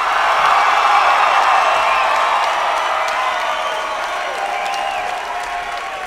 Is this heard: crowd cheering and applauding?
yes